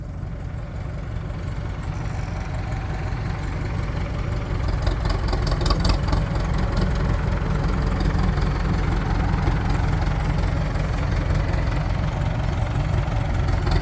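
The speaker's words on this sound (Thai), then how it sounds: "เดี๋ยวเดี๋ยวรถไถช่วยดัน" A heavy diesel tractor engine rumbles and knocks steadily up close while pushing a dump truck, growing a little louder and rougher partway through as it strains under load.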